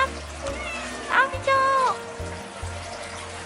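A cat gives a couple of close, drawn-out meows over running tap water and low background noise, with a voice nearby.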